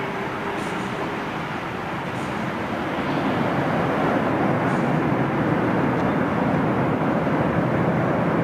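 A jet airliner on approach to London Heathrow in a gusty crosswind, a steady broad roar that swells louder and nearer about midway and holds strong to the end.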